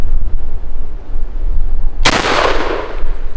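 Kel-Tec KS7 shotgun firing a 3-inch RIP round on an outdoor range: a single sharp, loud blast cuts through a low background rumble, followed by a fading echo.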